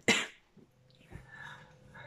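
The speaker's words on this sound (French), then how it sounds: "Donc là, je vais me mettre à tousser." A woman with a cold, sick at home, gives one sharp, close cough followed by softer throat sounds and breathing, quiet overall.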